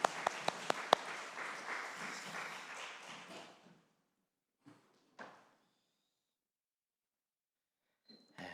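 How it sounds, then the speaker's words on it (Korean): A church congregation at a Sunday morning service on an air force base claps together for about three and a half seconds. The applause is soft and distant, then it stops and a few faint knocks follow. "우리 하나님께 영광의 박수 올려드리겠습니다"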